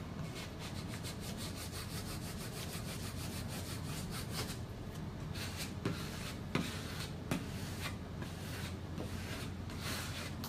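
Squeegee pressing vinyl wall art onto a wall, producing a faint, continuous scraping and rubbing with repeated short strokes and no talking.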